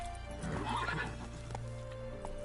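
Roach, a horse in The Witcher 3, gives a short neigh and whinny close by, followed by a few soft hoof clops.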